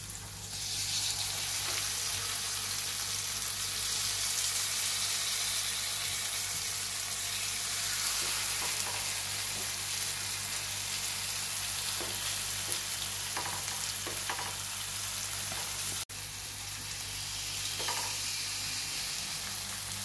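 Sliced potatoes frying in a pan after being flipped for a spiced aloo fry, a steady close sizzle lasting throughout with occasional soft scrapes and a brief dip near the end.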